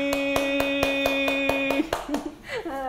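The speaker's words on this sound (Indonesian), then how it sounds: "Boleh kita langsung beri tepuk tangan yang paling meriah untuk Naila Ali" Audience applause for a guest named Naila Ali, a run of about eight crisp, regular claps close to the microphone under a sustained tone, then voices talking as it ends.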